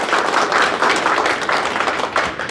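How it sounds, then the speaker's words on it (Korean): A lecture audience in Daegu breaks into celebratory clapping, a dense, even patter of many hands close by with no talking over it. "축하의 박수로 부탁드립니다."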